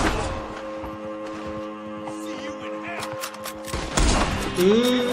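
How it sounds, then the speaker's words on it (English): Rifle shots in Red Dead Redemption 2 crack out as sharp, separate reports, with a louder burst near the end, set against a game soundscape with voices and music underneath. "Esse rifle é bacana, hein, velho."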